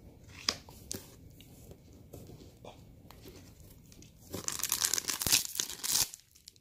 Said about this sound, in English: I'm just going to organize the cards here based by what deck they go with